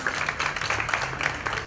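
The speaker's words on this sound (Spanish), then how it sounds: "Un aplauso para Sofía también." Audience applause for a woman who handed out bracelets at a Mar del Plata commemorative ceremony, a steady wash of many hands clapping that continues without a break through the whole stretch, with a low hum running underneath.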